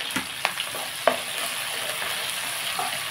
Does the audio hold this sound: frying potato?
yes